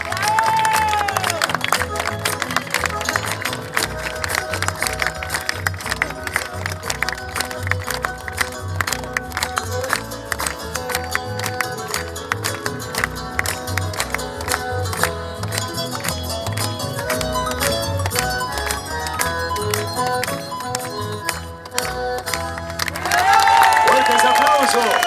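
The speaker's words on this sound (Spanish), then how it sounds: "Fuertes aplausos por primera vez, regalándonos tanta alegría" Audience applause and cheering break out after a galopera dance troupe performance at the Mataderos fair, loud and continuous over music, with a voice speaking over it at the end.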